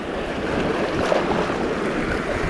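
Steady rushing roar of large waves and water around a fishing boat, with wind buffeting the microphone; no voices.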